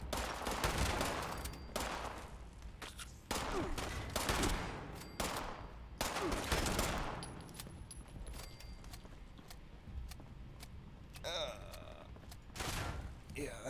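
Shotgun blasts in the game Fallout 76, several heavy broadband bursts at irregular intervals across the clip, loud and close, mixed with other game noise and speech.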